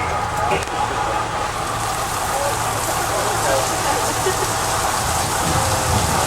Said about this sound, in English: The way we make it rain here in sunny California is with sprinklers in the trees.